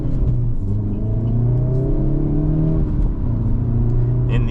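A 2025 Hyundai Elantra N pulls away as its engine revs and rises in pitch, a loud steady cabin rumble with a climbing whine heard from inside the car.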